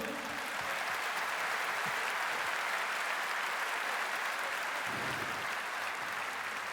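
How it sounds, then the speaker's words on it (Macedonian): Concert audience applauding the orchestra and band at a music event, a continuous broad wash of clapping from a large crowd, fairly distant and sustained. "Ве молам еден голем аплауз за оркестрот и за бендот."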